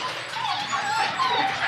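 A Jack Russell terrier, a six-month-old female, whimpers in continuous high, thin whines at a busy pet market, close and fairly loud, with no one speaking.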